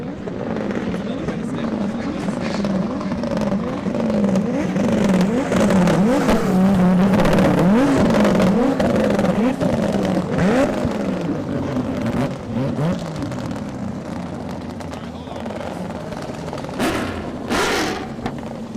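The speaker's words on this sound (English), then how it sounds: "we're going to give them a little rev" Drift cars at a Mondello Park drift event rev their engines, loud rising and falling revs sweeping in a repeated pattern close by, with a crowd and voices under the engine noise.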